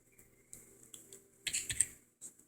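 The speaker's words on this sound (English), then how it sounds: "I'm just going to type something in here." Keys are tapped on a computer keyboard in short, sparse clusters of crisp clicks, close and fairly quiet, with a busier burst near the end and no talking.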